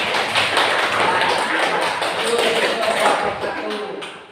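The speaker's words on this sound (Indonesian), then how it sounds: "Tepuk tangan untuk Mas Apik." Classroom applause for a student, a dense burst of many hands clapping close by that runs steadily for several seconds before tapering off, with voices mixed in.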